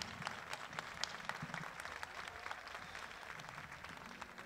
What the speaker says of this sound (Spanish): Por favor, un fortísimo aplauso para todos.